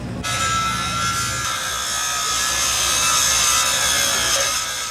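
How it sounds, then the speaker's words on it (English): Grinder working a steel rail joint during the 1999 move of the Cape Hatteras Lighthouse, a loud steady high-pitched whine with gritty hiss lasting the whole few seconds. "I want to get a grinder up here on one joint."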